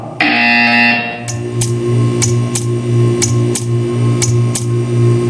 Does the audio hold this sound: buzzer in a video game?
yes